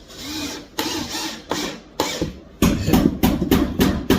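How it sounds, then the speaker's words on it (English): Screws, 2 1/4 inch molding screws, driven and recessed into an old 200-year-old wooden floor, heard as a series of sharp, loud bursts of drilling and thumping, irregular at first then faster near the end. "We're using these 2 1/4 inch molding screws and recessing them deep under to make sure that they'll stay in place."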